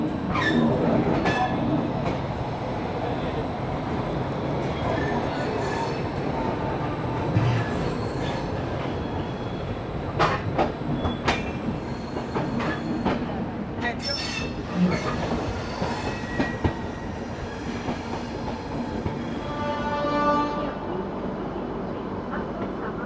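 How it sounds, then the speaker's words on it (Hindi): An Anubhuti coach train rolls along its rails at dawn, a continuous loud rumble from inside the carriage with scattered clicks, rattles and faint wheel squeals over the steady drone. "थोड़ा थोड़ा उजाला हो रहा है और ट्रेन भी हमारी चल पड़ी है।"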